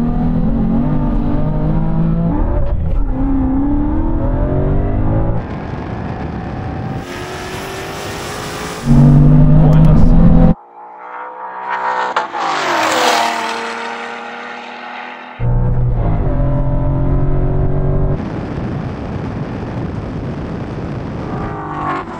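A BMW M3 and a Ford Mustang accelerate hard in a drag race, engines roaring loud and close through rising revs and gear changes, with a brief drop before the screaming climb resumes.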